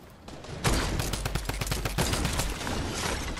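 Semi-automatic gun firing in Fortnite, a rapid burst of loud close shots in quick succession after a brief quiet start, continuing as dense repeated cracks.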